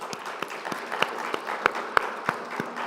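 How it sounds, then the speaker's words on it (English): A scattered round of applause for city frontline workers at a Mount Vernon State of the City address, with a soft wash of clapping punctuated by distinct sharp individual claps and a few brief tonal accents. "Please join me in a round of applause for all of them."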